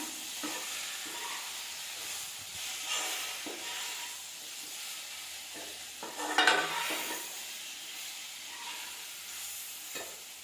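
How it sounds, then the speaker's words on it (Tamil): Ground chili paste is stirred into a tamarind curry in a pan with soft scraping strokes over a faint sizzle. One brief louder scrape sounds midway, and no one speaks. "நல்லா கலந்து விட்டுக்கலாம்."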